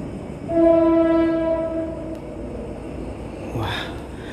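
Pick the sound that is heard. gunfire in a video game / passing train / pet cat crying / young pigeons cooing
passing train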